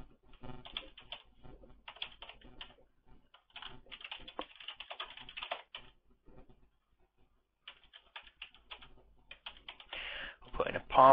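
Someone types a password on a computer keyboard in quick, uneven bursts of close clicking keys with short pauses, ending in a denser flurry of keystrokes.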